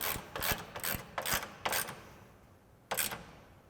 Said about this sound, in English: Now I'm going to take my 13 millimeter socket, my 3/8 ratchet, and we're going to tighten these up.